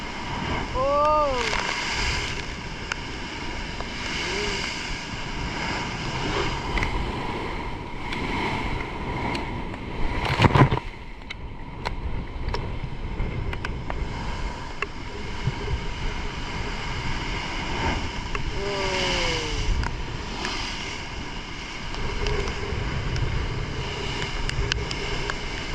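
Strong storm waves from Typhoon Bebinca crash and surge against the shore in repeated heavy roars, with wind noise and a loud splash midway, while people talk and exclaim over the surf.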